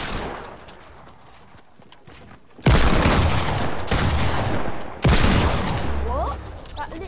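Gunfire from a pump shotgun in the Fortnite video game, with loud sudden blasts near the 2.7 and 5 second marks over a busy, noisy game mix and faint talk.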